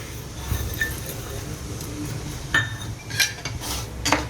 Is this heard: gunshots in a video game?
no